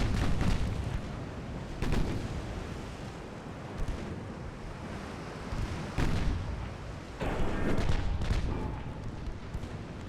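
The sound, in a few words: warship broadside gunfire in Ultimate Admiral Dreadnoughts video game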